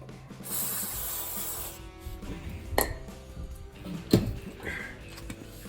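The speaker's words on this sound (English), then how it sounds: "I'm going to use a brake parts cleaner," A short hissing burst of brake parts cleaner spray on a Chevy Silverado rotor job, followed by metallic clinks and handling noises nearby.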